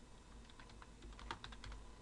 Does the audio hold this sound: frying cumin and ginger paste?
no